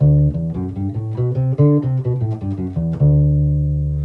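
Single guitar notes climb and descend a D Mixolydian scale in quick succession, then settle on a sustained final note that rings out.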